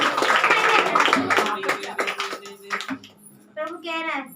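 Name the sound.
church congregation clapping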